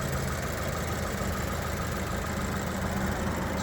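A four-cylinder Land Rover Range Rover Evoque Coupe engine idles steadily and evenly, a continuous low rumble with no talking over it.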